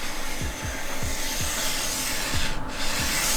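Side edge tool scraping along a ski edge during home waxing, a close rasping rub repeated in a quick back-and-forth rhythm, with no talking over it.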